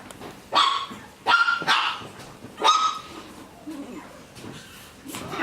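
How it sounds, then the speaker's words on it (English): Shih Tzu puppies bark while playing in a nursery, giving several sharp, high yaps in quick bursts at close range, with quieter whimpers between them and no talking. "We're in the nursery, so it does get a little loud. The puppies are playing."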